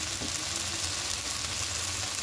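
Steady, continuous sizzling of spices frying in a pan while sautéing for a spicy duck egg curry, a dense hiss heard close and without talk.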